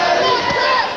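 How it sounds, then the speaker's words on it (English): A boxing crowd at a featherweight world title fight roars and cheers loudly and continuously, with a dense wash of shouting voices. "And listen to the crowd"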